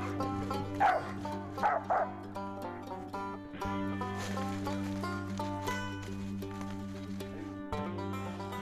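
Squirrel hunting dog barking at a treed squirrel on a cool February morning in the woods, repeated yips and barks in the distance, some whining, with a low steady hum underneath.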